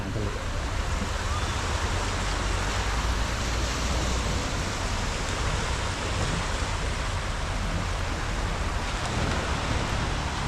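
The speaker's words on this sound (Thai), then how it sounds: "ก็จะริมทะเลอย่างนี้เลย" Seaside ambience at a fresh seafood market on Suan Son beach in Rayong, a broad steady wash of surf and wind that stays loud and unbroken throughout.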